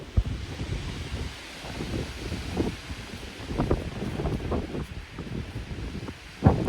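Strong wind buffets the microphone at a mountain campsite in rough, rumbling gusts, rising and falling with a rustling, roaring texture and no talking.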